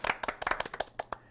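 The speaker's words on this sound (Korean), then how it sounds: "우리 박수로 한번 맞이하겠습니다" Audience applause with sharp individual hand claps bursting irregularly over about a second, welcoming a guest onto a Korean talk show about project management; close, fairly dense clapping with no voices.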